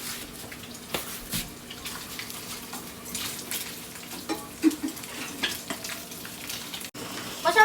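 Spam slices frying in a home kitchen pan, a low steady sizzle with scattered pops and a few clatters, growing busier toward the end; no talk over it.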